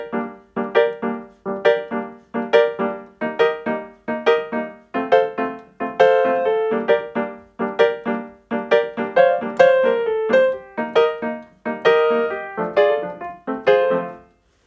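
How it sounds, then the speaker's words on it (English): Piano playing a reggae bubble rhythm, short clipped chords bouncing in a steady, even off-beat pattern with no pauses, played close and alone. "this is a really cool rhythmic technique used a lot in reggae music"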